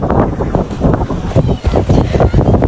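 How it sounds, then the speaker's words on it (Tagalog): Strong gusty wind in Ireland buffets the microphone in heavy rumbling bursts, loud and continuous throughout. "Mahangin ba, Ate Gabi?"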